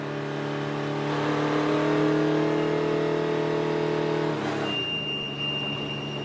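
A 2018 NASCAR Camping World Truck Series engine at Daytona runs close and loud with a steady revving drone that rises and falls, then abruptly drops pitch near the end. No voices are heard.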